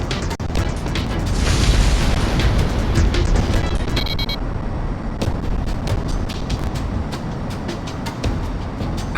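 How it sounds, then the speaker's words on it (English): Massive shot cannon fired by the Gleipnir in Ace Combat X, a deep booming blast followed by a long heavy rumble, with sharp crackling impacts and metallic clanks over a jet's roar. "They're going to fire the shot cannon?"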